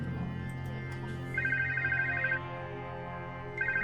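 Electronic telephone ringing in the video game Chinatown Detective Agency, two bursts of rapid trilling tone about a second long separated by a pause, over quiet low background hum with no talk.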